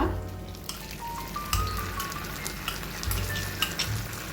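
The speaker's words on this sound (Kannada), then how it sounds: "ಈ ಮಸಾಲವನ್ನು ನಾವು ತುಪ್ಪದಲ್ಲಿ ಹುರಿಬೇಕು" Ground masala fries in hot ghee with curry leaves for a king fish masala fry, giving a close, continuous crackling sizzle with scattered pops and stirring, no talking.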